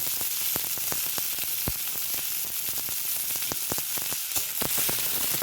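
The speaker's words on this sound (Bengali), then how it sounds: "পেঁয়াজ রসুন নেড়ে চেড়ে নেওয়া হচ্ছে।" Chopped onion and garlic sizzle steadily in a frying pan, with frequent sharp clicks and scrapes of a spatula stirring them throughout, close and continuous.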